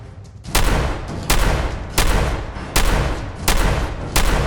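Loud, close gunfire in Fallout 4 at Swan's Pond: sharp heavy blasts repeat at a steady pace, roughly every three-quarters of a second, each with a booming tail that fills the gap before the next.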